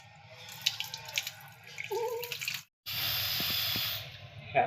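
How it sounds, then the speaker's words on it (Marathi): Peeled prawns are rinsed by hand in a vessel for a curry, with soft sloshing and splashing followed by a steady rush of running tap water, quiet and close. "आता धुवते चांगले असे धुवून घ्यायचे तिला दोन तीन पाण्यानं"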